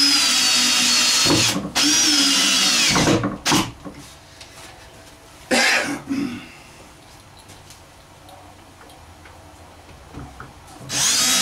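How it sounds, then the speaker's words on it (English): A power drill whirs loudly in a few bursts, biting into wood, with quieter pauses and faint handling noises between runs. "And then I'll drill these and listen for anything splitting."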